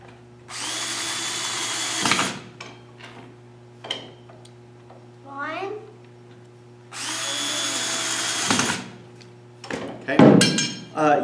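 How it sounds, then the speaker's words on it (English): Cordless power drill driving screws while a table is assembled: two long, loud whirring runs of about one and a half seconds each, separated by clicks, handling noises and brief speech. "then the drill will bring it back in"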